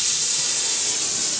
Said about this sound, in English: I'm going to torch things a little bit